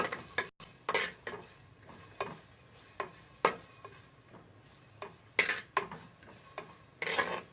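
Onions frying in a clay pot on a low gas flame, stirred with repeated scraping and knocking strokes against the pot over a faint sizzle, close and without talk.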